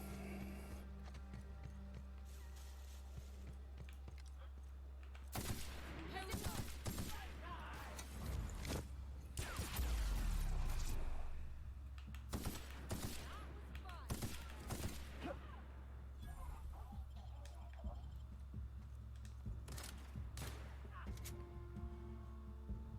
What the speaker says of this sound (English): No, shooting.